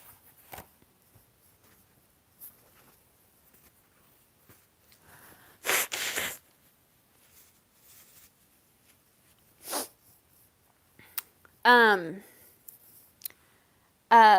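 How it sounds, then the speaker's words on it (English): A couple of short, forceful nose blows into a tissue, with a snorting burst near the middle and another sharp honk later, between quiet pauses. "I gotta blow my nose."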